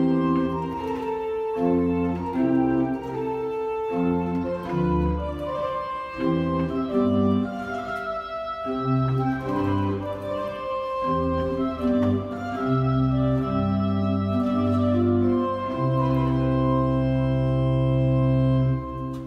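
An 1806 Schiörlin pipe organ in a church in Gammalkil plays a soft trio, with flute accompaniment over the pedal subbass and 8-foot octave stops holding deep sustained bass notes, steady and full with no talking.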